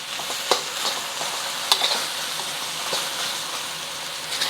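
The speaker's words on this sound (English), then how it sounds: "We just want to break it up so that the rice is separating from the clumps" Cold leftover rice sizzles in a hot pan while a spatula stirs and breaks up the clumps, a steady close frying hiss with scattered scraping taps.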